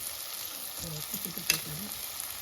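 Tomato and homemade Malvani masala sizzle and fry in a pan, a steady hiss with soft stirring scrapes and one brief sharper crackle, heard close with no talking.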